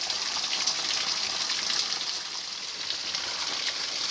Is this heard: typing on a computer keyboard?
no